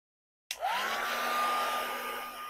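A hair dryer used as a drying tool blows steadily over a layer of Distress Oxide spray ink, starting abruptly after a short silence and holding a loud, continuous whine and rush until the end.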